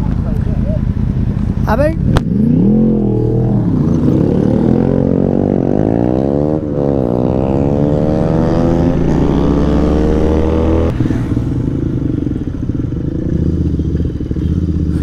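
A Royal Enfield Continental GT 650 twin engine revs hard nearby, its pitch climbing and falling in repeated throttle sweeps over a continuous loud rumble, with a brief spoken exclamation.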